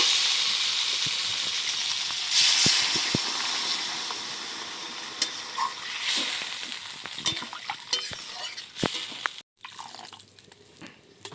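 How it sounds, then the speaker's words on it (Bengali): Water is poured into a pan of potato and cauliflower cooked in mustard oil, the close sizzle swelling into a hissing steam burst with clinks of a spoon, then quieting to a softer bubbling. "এবারে আমি এখানে পরিমাণ মতো জল দিয়ে দেবো"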